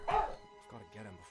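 A dog in The Beast Inside video game gives one short, sharp bark up front, followed by quieter voices talking.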